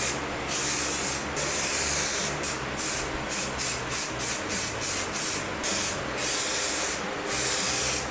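Filler primer sprayed onto a car body in repeated bursts of hissing spray, about a dozen short passes with brief gaps between them, close and steady.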